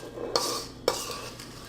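A spatula scrapes twice around a bowl of cookie dough, each a short rasping stroke against the bowl, close and fairly quiet, with a lighter scrape trailing after.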